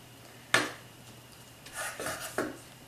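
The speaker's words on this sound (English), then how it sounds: "we just chop it up" A knife chopping food on a cutting board while making pasta e ceci: one sharp close chop, a pause, then a cluster of softer scraping cuts and a final chop in a quiet kitchen.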